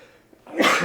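A single sharp sneeze bursts out after a quiet moment, loud and close, with a breathy, noisy release.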